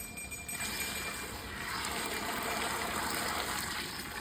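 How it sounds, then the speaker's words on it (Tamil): A steady rush of water poured into a pot of measured rice for biryani, building up after half a second and continuing evenly at close range, with no voices. "அதே பாத்திரத்தில் ஒன்றுக்கு ஒன்றரை அளவு தண்ணி ஊற்றணும்"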